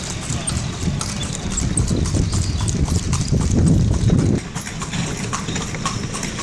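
Horse hooves clip-clop on a street in Yogyakarta as the horse pulls a delman cart, a steady close, loud rhythmic clatter of shod hooves that continues throughout over road ambience.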